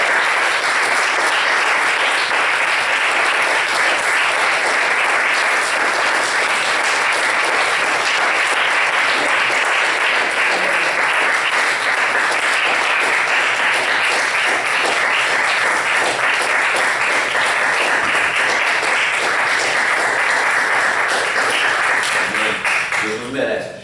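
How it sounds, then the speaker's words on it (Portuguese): A church congregation gives a long, loud round of applause that holds steady for over twenty seconds before fading at the end. "Uma salva de palmas para o Senhor Jesus"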